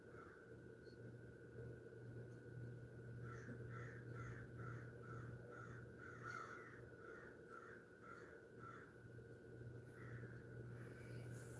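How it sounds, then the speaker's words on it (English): A crow caws repeatedly in the background, a series of harsh calls spread across the stretch over a steady low rumble of distant traffic. "I can hear a crow in the background going off."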